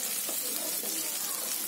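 Green chillies, some slit and some left whole, frying with onion in a pan for an upma, giving a steady broadband sizzle throughout with faint stirring underneath.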